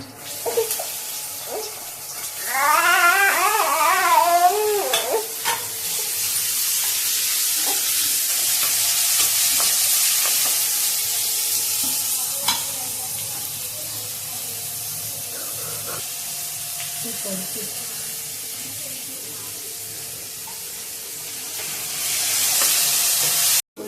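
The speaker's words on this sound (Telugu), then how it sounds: "ఉల్లిపాయలు ఫ్రై అయినాయి." Onions fry in a pan with a continuous sizzle. A spoon stirs and scrapes through them, mostly alone, with a brief voice-like sound early on.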